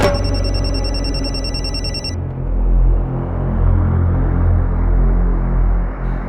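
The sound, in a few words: mobile phone ringing, left behind at home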